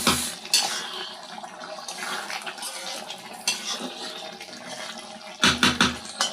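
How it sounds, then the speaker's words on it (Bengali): Water poured into chicken curry simmering in a pan for gravy, heard as a close splashing pour with bubbling and clanking of pot and utensil, followed by a louder burst of splashing near the end. "আমি ঝোলের পানি দিয়ে দেব।"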